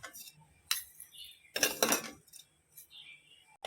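Golden roasted vermicelli is scraped from a kadai into a metal vessel, giving a few separate metallic clinks and scrapes, with one longer rattling scrape in the middle and quiet gaps between.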